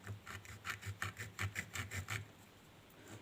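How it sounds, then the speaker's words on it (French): Small serrated knife sawing through a little piece of wood for a doll's wardrobe: quick, soft rasping back-and-forth strokes in an even rhythm, close, then stopping near the end, with no talk. "je vais comme ça scier mon petit morceau de bois"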